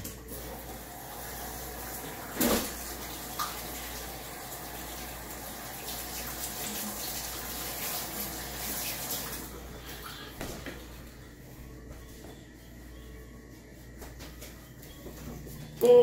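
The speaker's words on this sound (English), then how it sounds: "I'm gonna wash my hands" Running tap water splashes as hands are washed, a soft continuous rush with a brief louder gush early on, then quieter after the flow eases.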